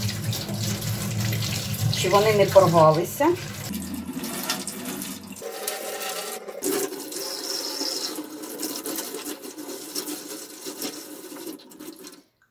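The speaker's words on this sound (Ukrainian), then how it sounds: "Ось так ми промиваємо кишки під проточною водою." Running tap water rinses natural sausage casings at a kitchen sink for homemade meat sausage, a steady splashing flow with a short spoken remark over it.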